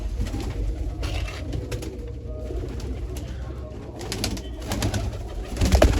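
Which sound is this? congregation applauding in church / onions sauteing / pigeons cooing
pigeons cooing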